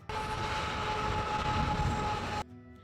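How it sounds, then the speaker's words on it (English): A train rumbles past in a long, steady roar with a sustained tonal hum over the noise, then cuts off abruptly, with no talking. "Listening to that train go by every so often was excruciating."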